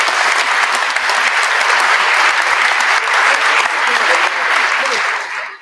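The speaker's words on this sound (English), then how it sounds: "So if we give him a round of applause." A crowd at a youth football championship ring ceremony applauds a guest speaker, loud, dense clapping held steady for several seconds before tapering off at the end.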